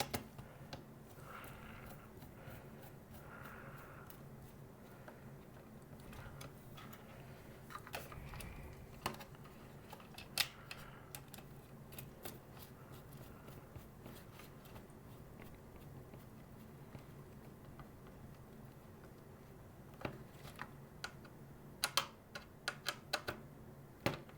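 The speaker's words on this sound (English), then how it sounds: "so we can start to screw this back in place" Screwing parts back into a Simpson Sears Model 12360 radio during repair, faint scattered clicks, ticks and small metallic taps in a quiet room.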